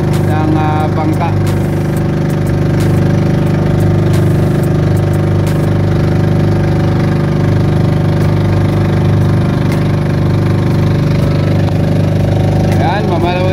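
A fishing boat engine runs loud and close with a constant heavy droning rumble that holds steady throughout, and voices sound faintly over it.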